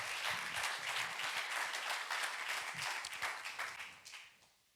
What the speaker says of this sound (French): J'aimerais entendre un grand amen, un applaudissement au Seigneur qui nous donne la dunamis ce matin.